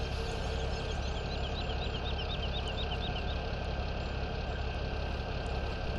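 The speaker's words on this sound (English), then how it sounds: "I'll get out of the tractor to stop the tractor noise." A tractor engine idles steadily in Farming Simulator 17, a constant low drone that runs faintly throughout with no speech.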